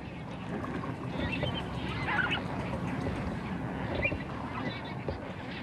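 A large flock of flamingos calling across Thane Creek, a broad mangrove-lined bay in Mumbai, with a steady dense chorus of honking calls that rises and falls continuously, mixed with some distant ambient noise.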